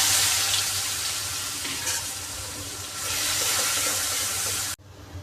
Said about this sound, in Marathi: आपलं तेल तापले, आता आपण ओवा टाकून घेऊ, हिंग आणि वाटलेलं वाटण.